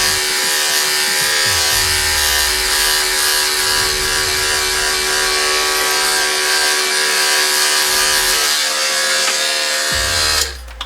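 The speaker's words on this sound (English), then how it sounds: "That's how you can trim your beard too, and knock that hair out at the same time" Electric hair clippers buzz steadily and loudly for several seconds while trimming a beard, then cut off abruptly.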